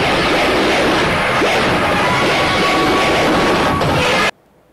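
Loud, dense rumble and clatter of a train rolling in reverse along the tracks, steady throughout, cutting off abruptly at the end.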